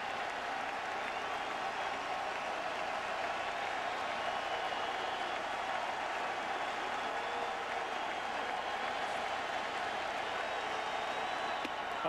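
A baseball stadium crowd roars steadily during a full count to Pedroia at Detroit Tigers versus Boston Red Sox, 2013 ALCS Game 2, a dense continuous wash of cheering and clapping from a distance, unbroken for about twelve seconds.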